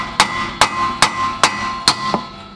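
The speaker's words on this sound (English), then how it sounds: "I'm going to go on ahead and hit this up with the hammer." A hammer strikes the axle nut on a 2000-2006 Lexus LS430 to break the axle loose, with five sharp metallic taps spaced about half a second apart, close and loud, a faint extra tap after the last, no talking.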